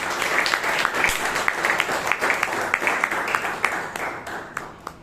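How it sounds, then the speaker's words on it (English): Members at a Toastmasters club meeting in Bangalore give a round of applause, a sustained, even patter of many hands clapping that carries on for several seconds before thinning toward the end. "let's give Toastmaster Shashank a big round of applause"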